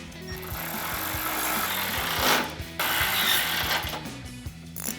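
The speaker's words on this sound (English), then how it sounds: "So now I'm going to take a 13mm socket, tighten this down." A 13mm socket ratchet tightening a bolt on steel side step bars on a Jeep Gladiator JT, rapid steady ratchet clicking, close and loud, with a brief pause partway.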